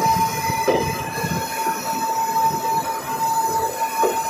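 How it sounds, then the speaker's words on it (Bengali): A night train rolls into New Bongaigaon Junction, platform 2, with a steady rumble, a sustained high wheel squeal and occasional clanks from the cars, heard from on board. "আমাদের ট্রেন নিউ বঙ্গাইগাঁও জংশনের 2 নম্বর প্ল্যাটফর্মে ঢুকছে।"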